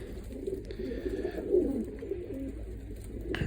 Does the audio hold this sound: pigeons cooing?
yes